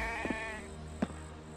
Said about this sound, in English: a sheep or a goat over there